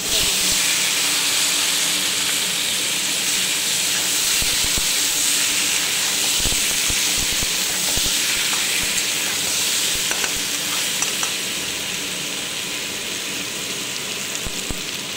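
Prawns fry in a hot pan with a loud, continuous sizzle and steady hissing spatter that holds without a break throughout.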